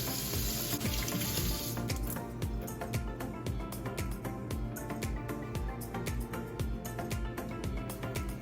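Dishes being washed in a kitchen sink under a steady stream of running tap water, with a continuous splashing hiss and occasional clinks throughout.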